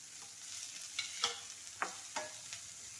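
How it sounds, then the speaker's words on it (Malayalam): Onion and cabbage sauté in hot oil for carrot rice, a quiet steady sizzle punctuated by a handful of sharp spoon scrapes and stirs, with no voices. "സവാള വഴണ്ട് വരുമ്പോഴത്തേക്ക് ക്യാബേജ് കൂടെ ഇട്ട് വഴറ്റാം"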